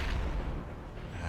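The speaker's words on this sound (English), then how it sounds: "Baited into tank fire." Siege tank cannon fire in a StarCraft 2 Terran-versus-Terran match, a dense, continuous low booming barrage with heavy rumbling impacts filling the whole moment.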